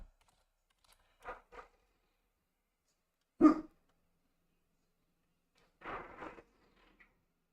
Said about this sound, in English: Ignore the dog.